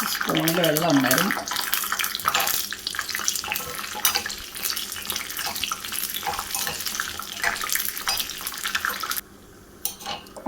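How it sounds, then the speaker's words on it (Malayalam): Cashew nuts frying in ghee give off a steady, bright sizzle that carries on for several seconds, then drops away sharply near the end. "നെയ്യിലാണ് വറുത്തെടുക്കുന്നത്"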